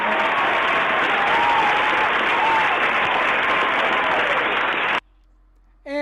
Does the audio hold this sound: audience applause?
yes